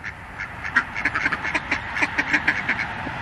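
Male ducks quack in a rapid, uneven series of short nasal calls, close and fairly loud, overlapping one another over a soft background with no talk.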